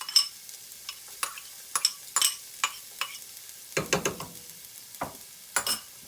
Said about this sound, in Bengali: এবার দিয়ে দিচ্ছি পেঁয়াজ কুচিটা।